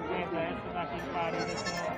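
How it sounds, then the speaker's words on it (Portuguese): Goats and sheep bleat at a livestock fair, their calls layered over steady crowd noise and market chatter, with someone talking nearby throughout. "Duas cabras paridas aqui, olha."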